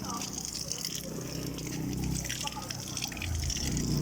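Running water flows from a village water supply in a barangay, a steady rushing trickle that fills the clip from start to finish at moderate level, with no talk over it.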